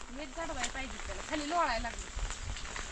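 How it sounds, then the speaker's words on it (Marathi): Steady rain hisses faintly in the background while a person talks over it, in Solapur, September. "पाऊस पाऊस पाऊस"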